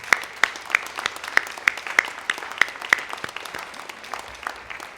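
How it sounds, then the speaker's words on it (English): Audience at a Sustainable Surf open house applauding volunteers, with sharp individual claps standing out over a thinner layer of scattered clapping, fairly close and lively. "give them a great big round of applause"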